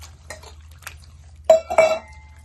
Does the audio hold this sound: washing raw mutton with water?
yes